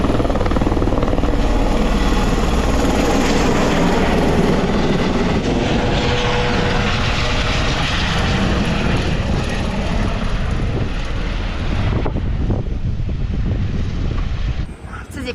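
A helicopter flown by its owner-pilot over a French island in Africa, a loud continuous rotor and engine roar heard from inside or very close, steady throughout before dipping at the end.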